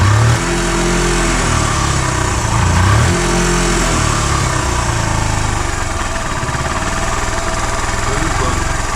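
A Suzuki Van Van 125 motorcycle that sat unused for twenty years, being restarted, its engine rising and falling on the throttle in steady loud revs, with people talking faintly around it.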